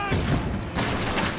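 Explosion and rapid gunfire in the real-time strategy game Iron Harvest, a dense burst of booms and shots packed into a second and a half, with a brief dip before the firing surges again.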